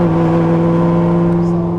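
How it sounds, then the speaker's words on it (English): A cammed C6 Corvette engine hums steadily at low revs, close and loud, as the car moves off gently with the clutch released and no throttle. "So just let the clutch out, don't give it any gas. Just slowly let it out."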